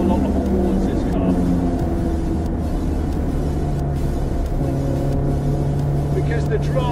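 Honda Civic Type R FK8 turbocharged hot hatch lapping Silverstone, its engine a steady, loud interior drone with road roar throughout, while someone talks over it.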